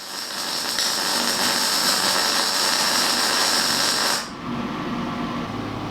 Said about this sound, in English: What I'm doing at the moment is welding that very top part, welding a part of the top part rather, just this 2-inch section here